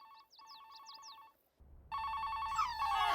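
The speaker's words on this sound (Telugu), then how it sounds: "ఉండు ఉండు, ఫోన్ తీస్తాను." A telephone rings with a trilling electronic tone in repeated bursts, then a louder, fuller ring tone takes over near the end.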